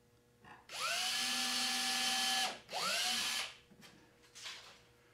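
A power drill drives a screw into a wooden reloading bench in two close, loud whirring bursts, the first longer with a rising motor pitch. A few faint knocks follow in a quiet room.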